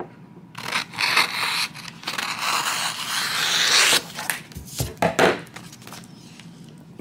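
Scissors or a blade cutting through a piece of Siser EasyColor DTV transfer sheet, a long rasping, scraping slice followed by a few shorter crisp snips and rustles, close and fairly loud with no speech.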